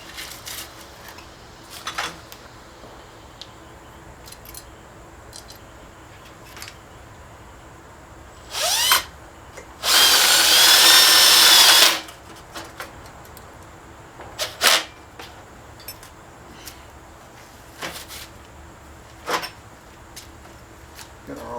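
A power drill bores a hole during a DIY refrigerant recovery system build, a loud whirring burst of about two seconds, set among scattered clicks, knocks and handling noises in an otherwise quiet workshop.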